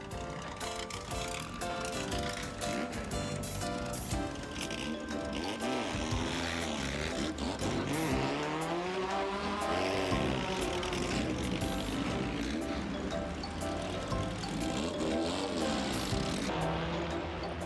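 Race cars circling a track during a qualifying session, their engines droning loudly and continuously, with pitch sweeps rising and falling as they rev and pass.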